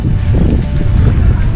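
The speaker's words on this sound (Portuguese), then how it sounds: "É que tá ventando muito." Strong wind buffets the microphone outdoors by the sea at a marine park in Okinawa, a constant low roaring rumble filling the whole clip with no clear voices.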